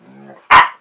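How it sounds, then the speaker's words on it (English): A soft whine followed by a single sharp, loud bark from a small dog, close up. "Puppies!"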